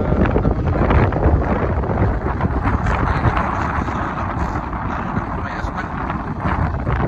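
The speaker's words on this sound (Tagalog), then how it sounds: "medyo mahangin-hangin konti dito dahil dito tayo sa taas ng" Strong wind high on a mountainside buffeting the microphone, a loud, continuous rumbling roar with gusty surges throughout.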